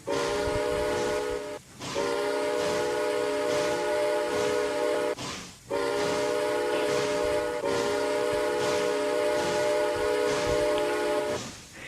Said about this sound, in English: As we're hearing the whistle was pretty beautiful as well